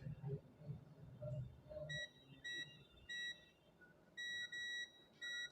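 Multimeter continuity buzzer on a Vivo Y15 phone circuit board, sounding in short high-pitched beeps, some in quick pairs, as probes touch the connected lines. Indistinct low murmuring is heard early on.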